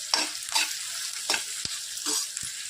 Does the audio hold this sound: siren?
no